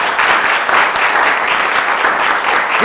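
Sustained applause from a live studio audience on a Ghanaian quiz show, a dense, even wash of clapping that fills the whole stretch without a break.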